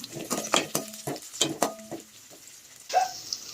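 Sliced big onions with ginger and green chilli being sautéed in a pan for chicken fried rice: quick spatula taps and scrapes, then a short sizzling burst near the end, close and moderately loud.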